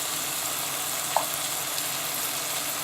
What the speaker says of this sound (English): give that a good stir around, get it all mixed up now